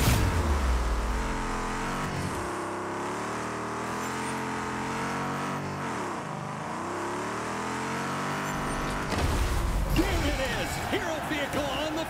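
Cars in the video game Destruction AllStars roar and rev under constant loud music and announcer-style talk, engine tones rising and falling in the middle before a burst of crashing action near the end.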